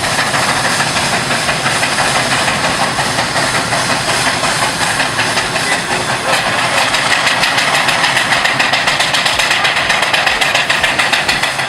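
Steam traction engines chuff and hiss steadily at close range, a dense continuous roar of exhaust and machinery with faint rhythmic knocking throughout.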